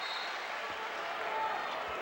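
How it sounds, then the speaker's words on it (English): A basketball crowd at Ohio State versus Iowa gives a faint, continuous round of applause, a distant wash of clapping that stays even for two seconds with a commentator faintly audible. "He'll get a nice round of applause both way."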